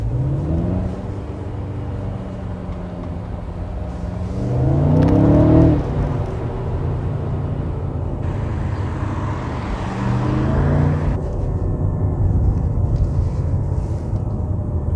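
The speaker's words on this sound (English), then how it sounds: "So the exhaust valves, they open and it sounds different," A 2019 Mercedes CLA AMG 4MATIC with its exhaust valves open in sport mode runs at a close, deep engine drone, swelling twice with loud revving surges before settling back to a steady hum.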